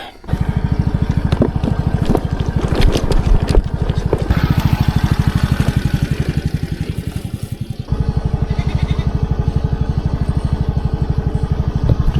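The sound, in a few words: vehicle driving on a mountain road in Nepal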